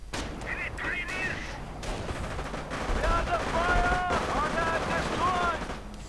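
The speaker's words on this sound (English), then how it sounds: "stopping the Ranger Volksguns right there with the Thompson submachine guns" Thompson submachine gun bursts in a real-time strategy battle, with US Rangers fighting Wehrmacht Volksgrenadiers, crackling over a dense din of distant artillery and explosions, while tonal game effects rise and fall through the middle.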